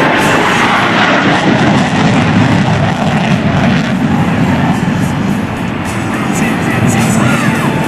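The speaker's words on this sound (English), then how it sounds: "An afterburner, the Tomcat is burning 300 gallons of fuel per minute" An F-14 Tomcat roars past in full afterburner during a 2004 NAS Oceana airshow demonstration, a loud, continuous, broadband jet blast that fills the whole stretch without letup.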